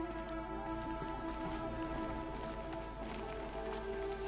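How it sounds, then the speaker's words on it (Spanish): Steady rain pattering down in Horizon Zero Dawn on PS4, a dense even hiss with scattered drops running throughout, layered with soft tonal game ambience and no talk. "Encima está lloviendo."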